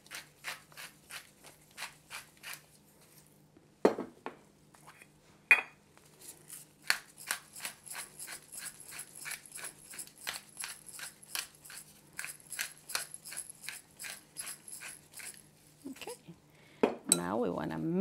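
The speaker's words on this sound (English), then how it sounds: "Now we want to mix it again" A utensil mixes pico de gallo in a bowl, making a rapid series of close clinks and scrapes against the bowl in a steady rhythm. Brief louder knocks break in now and then, and the clip ends in a rustling clatter.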